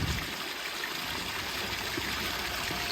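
Water gushes hard and steadily from the outlet of a new koi pond filter, a loud, continuous rushing splash with no pauses.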